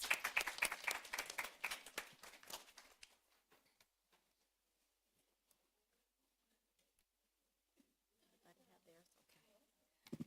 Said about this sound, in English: Let us give a round of applause of Thanksgiving.